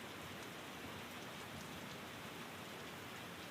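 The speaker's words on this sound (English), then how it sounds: "I had grown used to the sound of the rain" Steady rain falls continuously at a faint level, a dense even hiss of drops on surfaces with no breaks and no voices.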